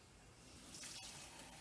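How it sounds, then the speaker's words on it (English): Tap water runs into a 2-cup measuring cup, being measured out for a pot of water to boil for mac and cheese, a steady close gush that swells slightly as it fills, with no talking. "we're going to measure out 6 cups of water to put into the pot to start boiling."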